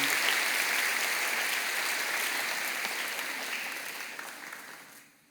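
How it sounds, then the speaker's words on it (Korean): A church congregation claps steadily in welcome of a new pastor, a dense, even round of applause that holds for several seconds before trailing off and ending. "여러분 크게 박수로 환영하시지요."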